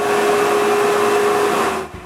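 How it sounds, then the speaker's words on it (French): A shop vacuum cleaner switched on by a remote-controlled relay runs with a loud, steady whine and a constant tonal hum, then cuts off near the end as the motor winds down. "J'ai aussi mis l'aspirateur juste à côté."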